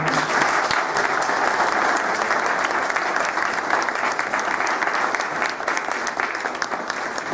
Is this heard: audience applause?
yes